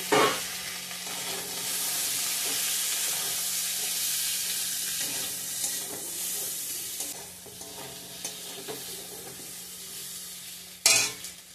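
Tomato frying in a pan for mango chutney, a continuous bright sizzle with occasional stirring scrapes, close and steady, ending with a sharp clatter.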